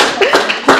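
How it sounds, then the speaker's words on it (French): A few scattered claps from a small conference audience, short uneven bursts rather than a full ovation, fairly close. "Donc applaudissez pour vous"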